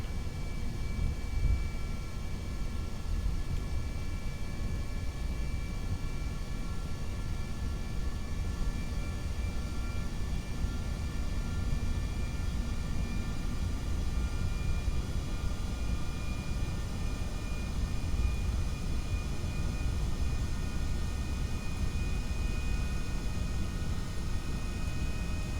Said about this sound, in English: we're ready for just a little bit of forward thrust here.